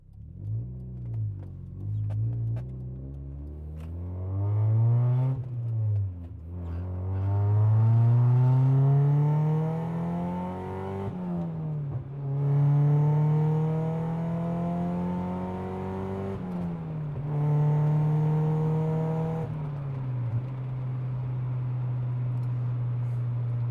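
A Mazda Miata with a 1.8 engine revs and climbs through gears in repeated rising pulls, with blips and drops between shifts during heel-toe driving, loud and close from inside the car.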